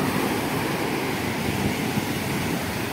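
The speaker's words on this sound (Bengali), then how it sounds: "এই যে সামনে পুরা জল, একদম সমুদ্রের ঢেউ আমার সামনে একদম আয়া পড়ছে।" Sea waves breaking on a shore, a loud continuous roar of surf close by with wind buffeting the microphone and no voices.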